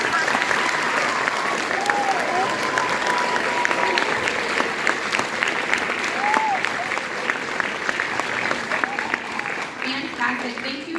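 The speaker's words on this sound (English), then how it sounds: "let's give them a huge round of applause" Sustained, dense applause from an award-night crowd honoring 6th, 7th and 8th grade students, steady and full throughout with voices and cheers mixed into the clapping.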